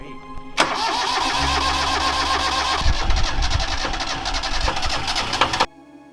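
A sailboat's inboard engine is started by turning the key: the starter cranks briefly, the engine catches and runs with a rough, loud, rattling idle, then cuts off abruptly near the end.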